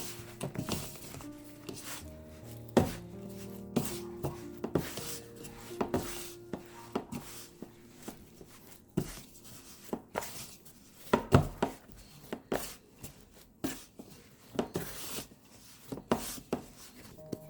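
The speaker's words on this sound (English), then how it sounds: "I'll knead this with my hand now." Plantain dough being kneaded by hand for a plantain bake, soft slapping, pressing and rubbing sounds in an irregular rhythm, close and fairly quiet, with occasional sharper knocks against the bowl or surface.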